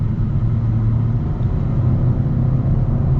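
A 2021 Hyundai Sonata Limited's 1.6-liter engine pulls in manual mode, a steady mid-pitched drone with road rumble heard from inside the cabin, constant and moderately loud, with no talking.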